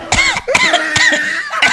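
A person coughing several times in quick separate bursts, close and loud, with short gaps between the coughs.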